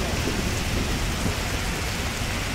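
Heavy rain pours steadily outside a second-floor building on a dark, stormy winter day, a dense, loud, unbroken roar with no voices.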